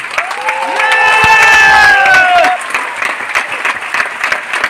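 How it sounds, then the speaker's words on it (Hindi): A burst of applause from an audience, loud and steady for a couple of seconds, with a bright whistle-like tone rising over it before the clapping thins out. "जब भी ताली बजाने का मौका लगे ना तो हाथ ऊपर करके बजानी चाहिए।"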